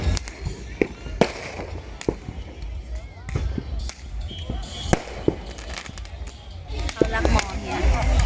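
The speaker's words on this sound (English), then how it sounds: "Or you say that's the definition of a firework" Fireworks and firecrackers go off during New Year celebrations in Phuket street: sharp irregular bangs and pops, some near and some farther off, over a continuous crowd rumble with voices talking.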